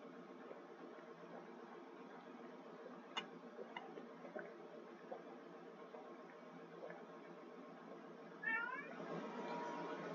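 A pet cat meows close to the mic in a quiet room, a short call followed by a longer rising meow near the end, with faint ticks in the background.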